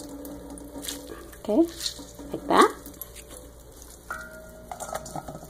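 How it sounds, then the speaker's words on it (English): Wet watercress is squeezed by hand to press out its water, giving soft splashes and drips near a sink while a person talks over it. "squeeze out as much as possible all the water from the watercress"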